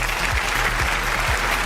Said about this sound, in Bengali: হক ফ্যামিলির জন্য একটা বড় হাততালি দেন।